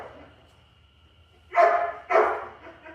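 A dog barks twice in quick succession during an obedience lesson on going to its place, both barks close and sharp, over a quiet low background hum.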